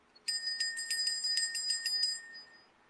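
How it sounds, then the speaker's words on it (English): A small bell rung repeatedly during a sound healing session, giving about eight bright, evenly spaced metallic strikes with ringing overtones that fade out at the end, clear and close with no talk. "ring a bell."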